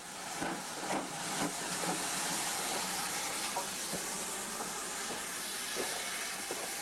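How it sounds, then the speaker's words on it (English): A steam locomotive on a restored Welsh heritage line beside the River Dee hisses steadily as it pulls forward, with soft rhythmic chuffs and clanks under the continuous steam noise. "As the locomotive pulls forward to perform its run-round manoeuvre"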